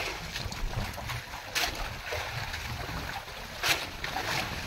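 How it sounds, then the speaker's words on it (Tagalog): Strong wind buffets the microphone in steady gusts, with a couple of sharper blasts, and no talking. "Hangin to, lakas."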